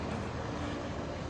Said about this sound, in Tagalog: Ayan yung helicopter.